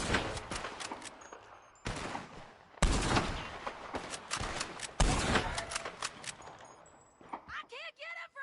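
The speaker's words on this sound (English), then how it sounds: "Where are them shots coming from?" Gunfire rings out in a Red Dead Redemption 2 shootout, a burst of sharp, loud shots with repeated heavy cracks and rolling echoes over several seconds, while a voice shouts briefly near the end.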